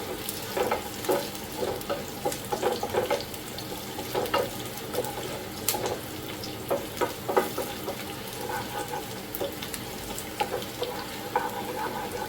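Onions, mustard seeds and urad dal fry in a pan for a coconut-free Madurai thanni chutney, a steady close sizzle broken by irregular scraping and stirring taps, with no voices.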